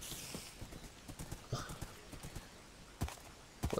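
Horse hooves clopping in the Minecraft video game, irregular soft thuds scattered across the clip with a couple of louder close steps and a faint whinny-like tone.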